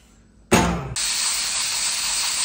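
A sealed pressure cooker boiling cow's foot broth bursts into a loud jet of steam, then settles into a steady, intense hiss that continues unbroken.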